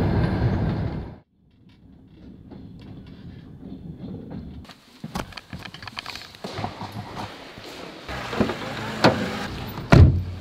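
A night train rattles through the dark toward Kharkiv, Ukraine, its wheels and carriage knocking in irregular clacks and thumps with a steady rumble underneath and a louder burst at the start, no talk.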